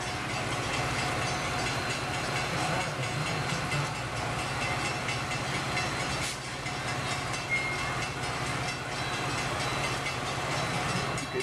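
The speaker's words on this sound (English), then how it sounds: "Here's the train." Train rolling through a station, with steady rumbling and repeated wheel clatter that stays constant and moderately loud for several seconds.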